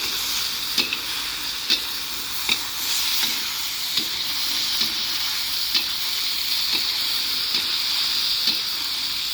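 Beef fries in tamarind liquid in a pan, a continuous close sizzle and hiss broken by regular scraping clicks as it is stirred every second or so.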